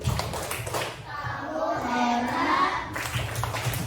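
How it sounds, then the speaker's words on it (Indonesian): Children in a classroom clap together in appreciation, a rhythmic patter of small hands that runs steadily over a few seconds, with young voices mixed in. "tepuk apresiasi"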